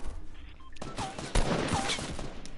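Short bursts of Fortnite gunfire, including a sharp close shot, crackle among other game sounds over about two seconds with no talk.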